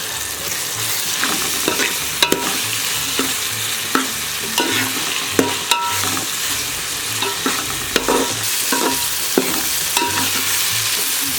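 Curry leaves frying in a pan for Nellore-style fish curry (chepala pulusu), a constant close sizzle broken by regular scraping and clinking stirs of a spoon.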